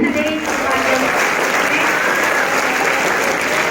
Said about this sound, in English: So clap, give a big hand for them.